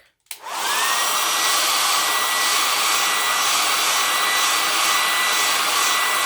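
A hair dryer switches on with a brief rising whine, then runs in a loud, steady whooshing roar.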